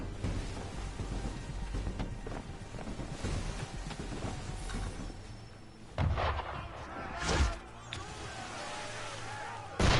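Ship cannons fire in Assassin's Creed III, with booming blasts over a constant rumbling game soundscape and a couple of sharp louder bursts toward the end. Voices talk in the background.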